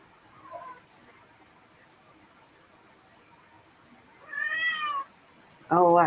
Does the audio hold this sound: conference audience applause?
no